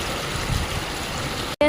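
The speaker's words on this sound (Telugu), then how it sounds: "ఇక్కడ వచ్చేసి చిన్న వాటర్ ఫాల్స్ అయితే ఉన్నాయి" Small waterfalls flowing, a steady broad rushing wash of water, close and constant, cut off abruptly near the end.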